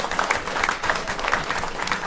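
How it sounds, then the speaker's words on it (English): Steady applause from an audience at a school board of education meeting, a dense continuous patter of many hands clapping throughout, fairly loud with no clear talk on top. "So I really would like for you to give them a round of applause"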